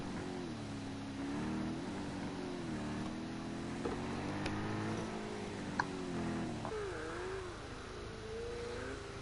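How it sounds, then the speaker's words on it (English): In the Project Cars 2 racing game, a Ferrari GTE race car engine drones and shifts in pitch as it accelerates and changes gear, a continuous mid-level roar that rises and dips over several seconds. "Looks like the Ferrari is just coming out for a last minute dash"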